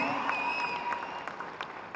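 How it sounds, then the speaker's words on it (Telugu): Audience clapping at a film launch event in a hall, steady applause with scattered claps over a ringing sustained musical tone, fairly soft and continuous. "కొట్టిన క్లాప్స్ దీనికి"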